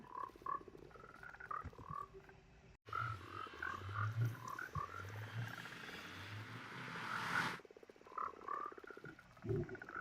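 Frogs croak in a survival building game, a few distinct croaks rising over a quiet ambient bed, with a denser, louder cluster of overlapping calls in the middle before thinning out again.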